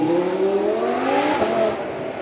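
A second-generation Audi R8 V10 Plus with a 5.2 litre V10, revving loudly and close at a supercar weekend, a strong rising and falling engine note held for a couple of seconds.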